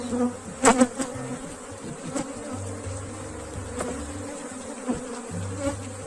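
Africanized honey bees buzz around an open beehive, a continuous close drone with individual insects flying past in louder swells and some handling knocks.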